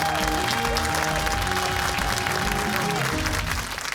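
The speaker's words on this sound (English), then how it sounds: "Let's have a round of applause for both teams" Audience applause for quiz teams tied in a quarterfinal match, a steady burst of clapping that holds evenly before thinning out at the end.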